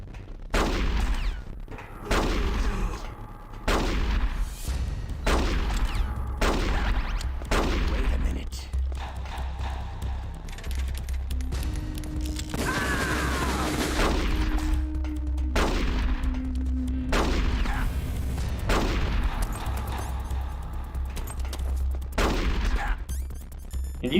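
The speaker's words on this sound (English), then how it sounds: "Can you stop shooting me for like 5 seconds?" Repeated sharp pistol shots ring out in a Metal Gear Solid fight against Ocelot, spaced a second or two apart, with a stretch of continuous game noise and tones between volleys; a voice talks over the action.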